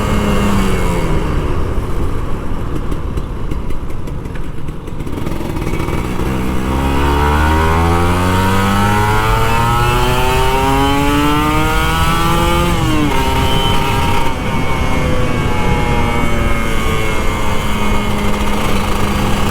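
An old Kawasaki Ninja RR 150 two-stroke motorcycle revs hard while being ridden on an open road, its high-pitched engine climbing through the gears with rising and falling pitch sweeps, loud and close over wind noise.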